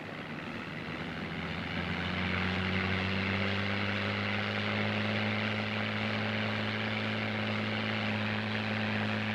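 A WWII-era propeller aircraft engine roars at full takeoff power with the propeller at maximum RPM, a loud, steady droning hum that swells slightly in the first two seconds and then holds constant.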